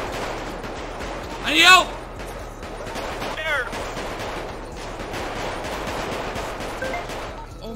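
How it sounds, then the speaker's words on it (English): Gunfire in the GTA RP video game, rapid bursts of shots crackling in a continuous barrage while someone talks over it, fairly loud and close. "I'm getting gunned down."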